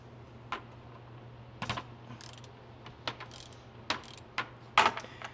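A socket wrench loosening the 14mm nut under the carburetor bowl of a Generac GP7500E generator gives a series of sharp, close ratcheting clicks over a low steady hum, with no speech.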